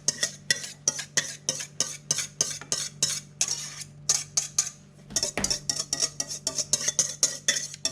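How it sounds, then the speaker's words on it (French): A whisk or spoon stirring hot cream into egg yolks and sugar in a bowl, rapid rhythmic scraping and clinking strokes close up, briefly pausing midway, no talk. "J'en mélange une partie avec les jaunes, le entier et le sucre."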